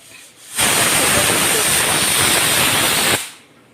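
A pressure cooker whistles as mutton curry with large chunks of potato and papaya cooks on a gas stove: one loud, steady steam hiss lasting a few seconds, starting abruptly and cutting off just as sharply.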